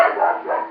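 A single short bark from a dog, close and fairly loud, lasting under a second.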